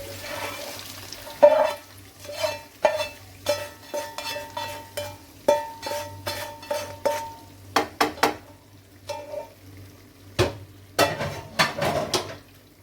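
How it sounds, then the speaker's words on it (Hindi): Bitter gourd being stirred into chana dal in a pot: a run of close, uneven clinks and scrapes of a spoon against the metal pot, with wet sloshing and brief pauses, and no talking. "अब इसको अच्छे से मिक्स कर लेंगे दाल में।"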